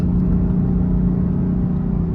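A BMW M4 engine rumbles steadily at a low, deep pitch, idling with a throaty growl and no voices over it.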